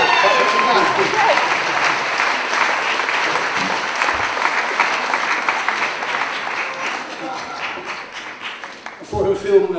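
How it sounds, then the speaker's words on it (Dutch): Film festival talk show audience applauding nominees, steady dense clapping that gradually fades, with a voice starting up at the end. "Nou, ook een applaus."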